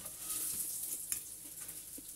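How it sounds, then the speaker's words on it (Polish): Zucchini cutlets frying in a pan at home give a faint, steady sizzle with small crackles and a light clink, quiet and close, without speech. "Ja smażę dalej te kotlety."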